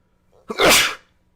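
One loud, close sneeze from a man, a brief sharp intake followed by an explosive burst, alone against silence.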